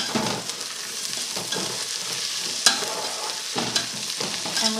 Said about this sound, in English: brown this along with the onions for a few minutes so that the flavors all mix together